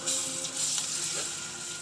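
Onions frying with ginger garlic paste and turmeric in a pan as they are stirred, a soft continuous sizzle with light stirring noises, close and fairly quiet, no talking.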